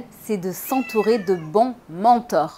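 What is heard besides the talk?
cat meowing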